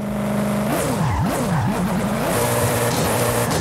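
Koenigsegg supercar making a launch-control start at full throttle with the handbrake on in the racing game Forza Horizon 5, the engine revving up and down in sweeping surges, then a sustained roar with tyre noise, loud and continuous.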